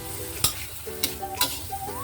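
Bitter melon stir-fried with black beans and sugar in a pan, soft sizzling under a few sharp spatula scrapes and clacks against the pan, close and unaccompanied by talk.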